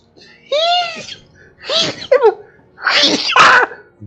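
A person sneezes three times in quick succession at close range, each a sharp breathy burst spaced about a second apart, loud against a quiet room.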